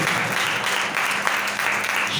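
Loud, dense applause from a church congregation fills the space evenly from start to finish, a steady wash of clapping with faint voices mixed underneath.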